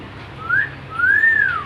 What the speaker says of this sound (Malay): Gary dikenali sebagai African Grey Parrot.